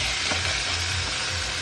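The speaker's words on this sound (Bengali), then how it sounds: "পুরো মাংসটাকে এর মধ্যে এবার ঢেলে দেওয়া হলো" Marinated chicken hits a little hot oil in a kadai and sizzles loudly, a dense, steady frying hiss up close that holds without pause.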